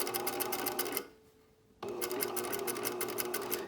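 A sewing machine stitches a curved seam on a box top with a rapid, steady mechanical chatter, pauses for under a second, then resumes at the same even pace, close and clear.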